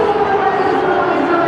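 A huge stadium crowd at a T20 World Cup cricket final between India and New Zealand roars in a loud, continuous wash of cheering and shouting with no break.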